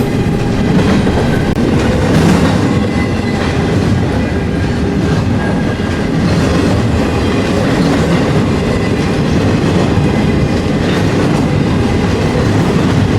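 A heavy freight train rumbles past continuously, with steady low roar and faint clickety-clack of wheels on rails, loud and close throughout.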